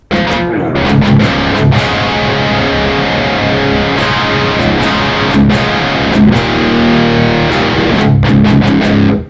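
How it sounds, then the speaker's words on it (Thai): A heavily distorted electric guitar, a Schecter, plays sustained, gritty chords with some sharp strummed attacks, loud and alone without any voices. "คราวนี้เสียงแตกมา"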